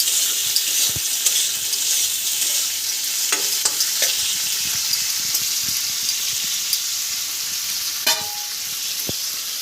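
Village-style curry of magur catfish with badi and mustard: ingredients fry in hot oil and are stirred, giving a continuous loud sizzle broken by occasional scraping and clinks of the spoon against the pan, with no voices.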